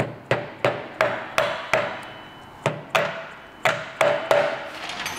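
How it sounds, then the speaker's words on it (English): A mallet taps an axle into the front wheel of a Piaggio Beverly BV350 scooter: about a dozen sharp, close blows at a steady, slightly uneven pace, with no voices. "you can sometimes just tap this side in easier without a socket. You can just use your mallet"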